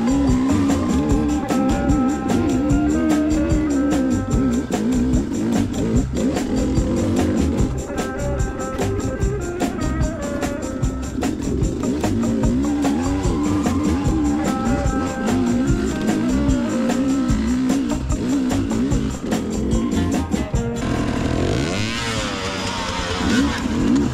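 Sherco 2T300 two-stroke dirt motorcycle engine running steadily and loud throughout, with a busy buzzing drone that shifts pitch slightly, close by and alone.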